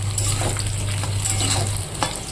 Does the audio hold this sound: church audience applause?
no